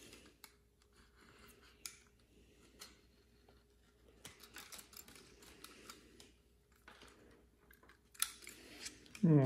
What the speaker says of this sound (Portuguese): Dá uma entradinha com o estilete assim